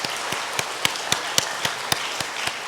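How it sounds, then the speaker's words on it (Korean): A church congregation at a Sunday service claps in welcome, with steady, evenly spaced claps in unison, about four per second, over a soft room background. "잠깐 자리에서 일어나시면 박수로 환영하도록 하겠습니다."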